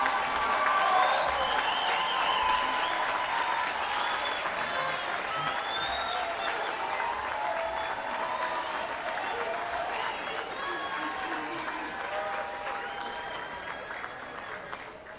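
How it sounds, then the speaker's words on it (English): Sustained applause from a large commencement audience of graduates, families and friends, dense continuous clapping filling the hall for about fifteen seconds and slowly tapering toward the end. "Will the graduates please rise and lead a round of applause?"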